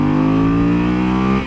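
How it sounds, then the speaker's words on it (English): A 600-pound 2015 Yamaha Super Tenere motorcycle accelerates hard from 40 to 80, its engine droning loud and steady with a slowly rising pitch, close and alone with no talk. "40 to 80 pull on a 2015 Yamaha Tenere, Super Tenere."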